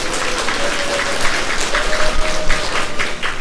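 Audience at a lifelong-learning city vision ceremony applauds to welcome a lecturer, a dense steady clapping that fills the whole clip.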